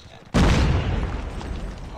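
Trip mine explosion in Call of Duty Mobile, a sudden loud close blast with a deep rumbling body that decays slowly over the following seconds amid game noise.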